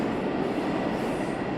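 A New York City subway train rumbles with a dense, steady roar of wheels and cars and no break in the noise. No one speaks.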